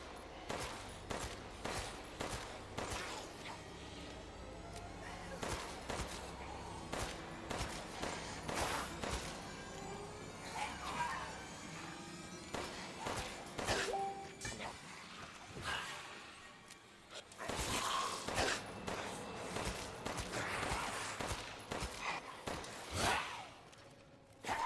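Gunfire in the Resident Evil Village castle demo, a handful of sharp shots scattered among game ambience, footsteps, thuds and a swelling musical backdrop, loud and close.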